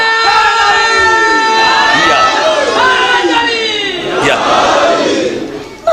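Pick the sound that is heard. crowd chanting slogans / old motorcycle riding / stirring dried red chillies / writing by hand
crowd chanting slogans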